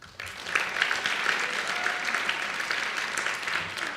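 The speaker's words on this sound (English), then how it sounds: "So if you could, give your families a round of applause." An audience at a senior salute gives families a round of applause, a steady wash of clapping from many hands that keeps going without a break.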